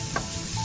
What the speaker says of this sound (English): You want to hear the sizzle when adding the onions.